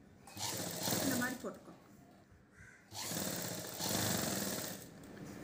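A sewing machine stitches a cross piece of fabric for a chudidar top, running in two whirring, rattling bursts split by a short pause, close and moderately loud, with a voice speaking over it.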